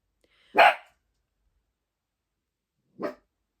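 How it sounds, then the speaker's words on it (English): A pet dog lets out two short barks about two and a half seconds apart, the first louder and the second softer, with quiet in between and no talking. "The dog's woof woof woofing."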